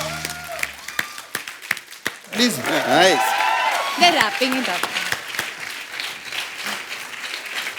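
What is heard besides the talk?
studio audience applause for RRR team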